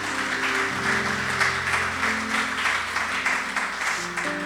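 A church congregation applauding, sustained clapping from many hands with a held organ or keyboard chord beneath, steady throughout.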